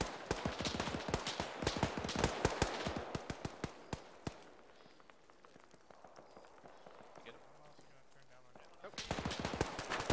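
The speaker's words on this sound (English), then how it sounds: "I think we're taking fire from over here" Incoming gunfire in Arma: rapid, loud cracks and bursts in a dense volley, fading into a quieter stretch before a fresh burst of shots at the end.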